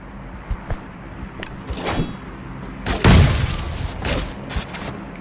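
Grenade blast in the battle game PUBG Mobile, a loud broadband boom around the three-second mark after scattered shots and thuds, with rumbling debris trailing off.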